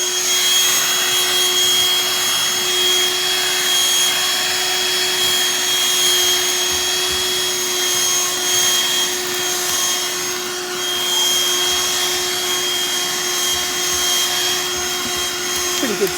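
A BLACK+DECKER Dustbuster cordless handheld vacuum whines steadily and loudly throughout, a constant motor hum with a high pitched tone, no pauses.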